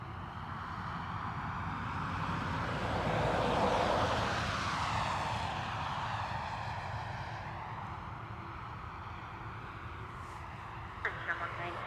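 An airliner takes off from runway 10 right at Dublin Airport, its distant engine roar swelling to a broad rumble, then slowly fading as it climbs away, with faint voices in the background.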